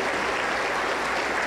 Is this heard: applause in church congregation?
yes